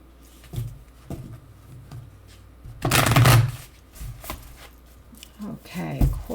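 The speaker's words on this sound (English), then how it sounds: "Okay, one more shuffle." An astrology oracle card deck is shuffled nearby in short riffling bursts, one longer and louder in the middle, with scattered soft taps and handling noises around them.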